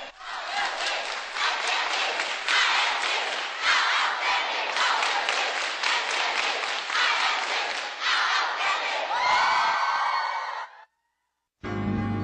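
Audience at a youth leadership camp in Taiwan breaks into loud, sustained applause and cheering, a dense crowd roar that holds steady for about ten seconds before cutting off abruptly into silence.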